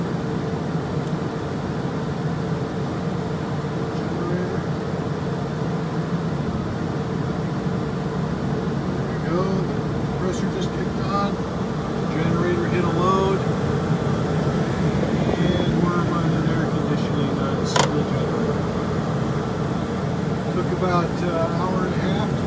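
An RV air conditioner compressor runs on a single 2000-watt generator, giving a steady loud mechanical drone and hum that holds throughout and swells slightly partway through.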